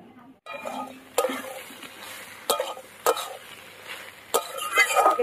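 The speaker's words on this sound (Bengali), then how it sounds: "এইভাবে ধীরে ধীরে ভালো করে একটু কষিয়ে নিতে হবে।" Slow stir-frying of kohlrabi with prawns in a pan: a steady soft sizzle with intermittent sharp scrapes and clacks of a spatula against the pan at irregular intervals, close up, with no talk.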